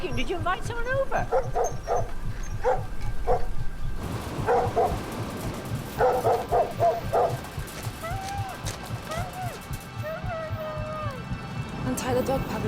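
A dog in a film barks in short bursts and whimpers in high, wavering whines, close and fairly loud, with frantic voices talking over it.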